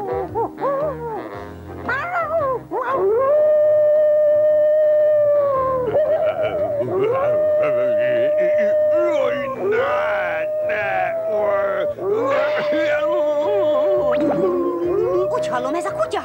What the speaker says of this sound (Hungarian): Úgy hallom, ez a kutya hangja.